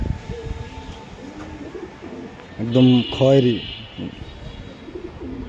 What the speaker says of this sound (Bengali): এটা একটা বাচ্চা কবুতর